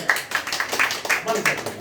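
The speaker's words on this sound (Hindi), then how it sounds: "बस ताली हुआ, ताली बजाइए।" Audience clapping at a home gathering in Ahmedabad, a quick burst of loose, uneven claps close by, with a voice speaking over it.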